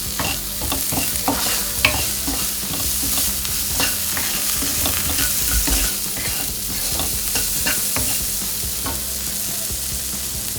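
Onion and tomato frying and being stirred in a pan for masala oats, with a steady close sizzle broken by frequent scraping spoon strokes throughout, no voices.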